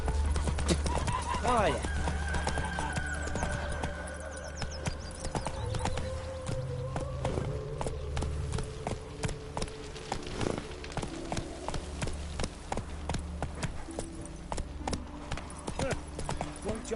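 Hoofbeats and whinnies from a horse in The Witcher 3 video game, clopping steadily under game music and effects while a person talks over it.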